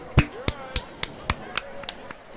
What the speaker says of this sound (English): our color commentator doing a little clapping instead of talking